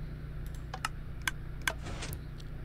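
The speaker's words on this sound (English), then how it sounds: "You hear the latch and the payment is now accepted." A few quiet, sharp clicks from a Minecraft redstone latch accepting payment, spaced irregularly over a faint steady hum, with no talking.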